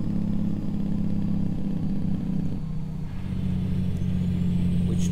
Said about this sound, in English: That is the Jake brake or engine brake.